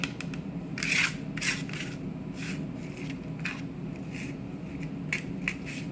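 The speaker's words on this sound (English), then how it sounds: "So I try and scrape off some of the salt." Salt scraped off an ingredient for an albacore tuna salad, a series of short dry rasping scrapes over a low background hum, close and without talk.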